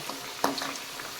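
Chaat dough dropped into hot oil, a soft continuous bubbling fry with faint crackles and one brief louder splash-like pop, heard close and alone.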